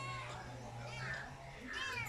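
A cat meows twice amid a steady low hum, with faint children's voices in the background; a moderately close, plaintive cry that rises and falls over about two seconds.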